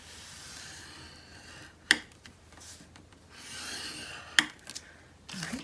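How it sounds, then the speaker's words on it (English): Paper is scored at half-inch intervals on a scoring board during a spring farmhouse paper craft project, giving a steady soft rubbing rasp with two sharp clicks of the tool partway through, close and alone. "place the short side in your scoreboard across the top and score at 1/2 inch"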